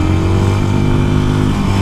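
A Harley-Davidson motorcycle engine revs hard to redline, a loud, close, steady droning roar with a thick harmonic growl that holds for about two seconds.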